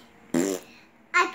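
Two short farts from a dad and son, the first a buzzy mid-length blast and the second a shorter higher-pitched squeak after a brief pause, close and fairly loud.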